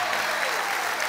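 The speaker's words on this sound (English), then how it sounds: "round of applause for the captain of the women's team, Bethany England." A stadium crowd at a Tottenham Hotspur presentation claps in a dense, steady wash of applause that holds evenly across the short moment, moderately loud and without any clear speech.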